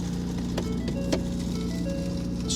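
A salt spreader's spinner runs on a moving snow-operations truck, giving a steady mechanical hum with a tonal whine and faint intermittent clicks, carrying on evenly throughout.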